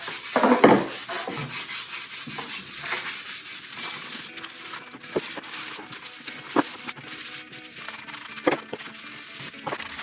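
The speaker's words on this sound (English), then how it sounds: "now we're gonna go ahead and hand sand this thing" Hand sanding a wooden candy dispenser: rhythmic back-and-forth scratchy strokes up close, steady at first then more irregular, with no talking.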